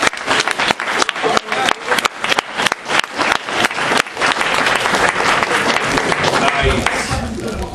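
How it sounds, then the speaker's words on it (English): A charity auction crowd at an anime convention claps loudly after an item sells, starting with sharp separate claps that build into continuous close applause, with voices mixed in. "another round of applause"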